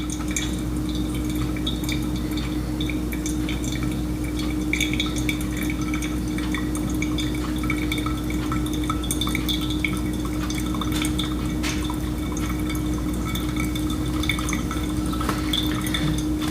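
Water is poured gently over ground Colombian coffee in a V60 pour-over dripper, a steady close trickle and patter with faint dripping running continuously, over a constant low background hum.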